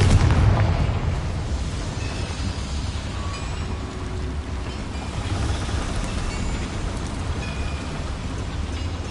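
A Confringo blasting spell going off inside a small mine in Hogwarts Legacy, a loud booming explosion at the start that fades into a long, noisy rumbling tail with no talking.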